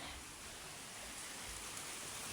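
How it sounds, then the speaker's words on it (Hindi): Steady rain falls in Haldwani during a power cut, a faint, even hiss of drops on surfaces with no voices over it. "भाई बारिश हो रही है"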